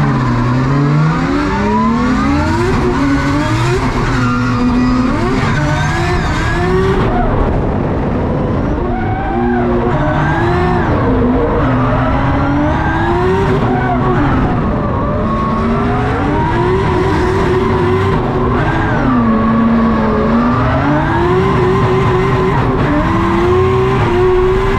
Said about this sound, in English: what you're seeing on track at the moment is Ben Hodges from Queensland putting down a bit of a lead run